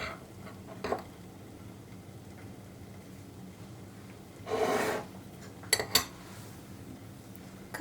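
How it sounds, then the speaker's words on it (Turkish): Flour, baking powder and cocoa shaken through a sieve: soft, faint rasping rubs with a longer scraping burst midway and a couple of sharp clinks of the sieve against a bowl, otherwise quiet. "Ben şimdi hepsini elekten geçireceğim."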